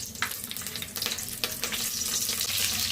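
Mustard seeds, dried red chillies and curry leaves sizzling and popping in hot oil for a fish curry, a bright continuous crackle with sharp spitting bursts, close and loud, and no voices.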